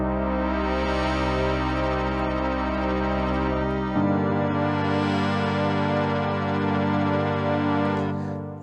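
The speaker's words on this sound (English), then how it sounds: "So I can use Aftertouch to bring in that faster, more fluttery LFO." Synthesizer notes held steadily, their tone wavering with a fast, fluttery LFO brought in by aftertouch; two sustained chords sound alone, the second entering midway and shifting the pitch.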